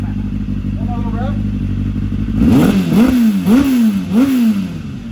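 A Kawasaki ZX-7RR motorcycle fitted with a Viper exhaust, heard close by, settles at idle and then gives a series of four or five quick, sharp throttle blips that rise and fall in pitch.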